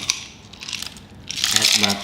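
Hard clattering and rattling as ice cubes tumble into a food chopper holding chicken meat, getting louder and busier toward the end.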